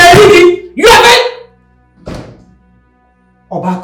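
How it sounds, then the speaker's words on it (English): A bedroom door banged shut, heard as loud, heavy thunks followed by softer knocks, with a voice briefly audible around them. "she entered her room and banged the door"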